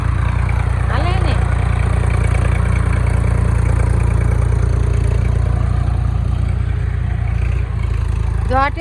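Tractor engine chugging steadily at a farm, a constant low rumble close by throughout, with people talking over it.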